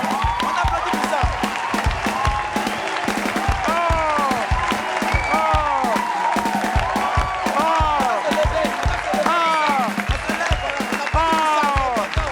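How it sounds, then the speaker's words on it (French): A studio audience on a French-language talk show claps throughout, a steady patter of applause under constant lively talk and exclamations from the hosts. "On applaudit pour ça."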